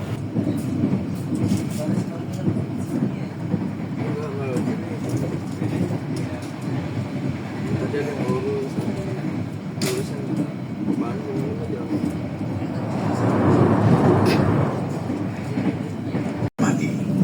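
Passenger train KA Serayu running toward Purwokerto, a steady loud rumble of the carriage interior with rolling wheel noise that swells briefly near the end, with talk faintly underneath.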